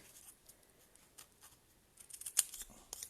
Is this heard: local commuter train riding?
no